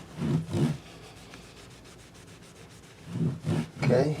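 A cloth wiping along the grain of a Dean Dime O' Flame guitar's fretboard gives soft, close rubbing strokes, a few in a row, then a quiet pause and more back-and-forth wiping.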